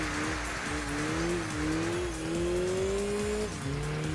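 Car braking into a corner in the Enthusia racing video game, a continuous engine drone that rises and dips in pitch with tire squeal running through it, moderately quiet and without speech.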